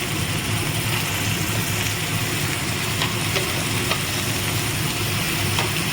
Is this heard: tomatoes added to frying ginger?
yes